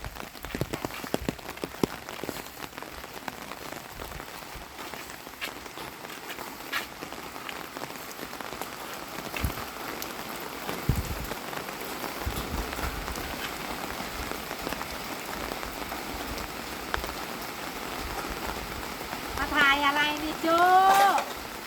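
Steady rain falls beside a rice paddy in rural Thailand, a continuous hiss of drops on surfaces with scattered louder patters throughout and a brief faint chirp near the end.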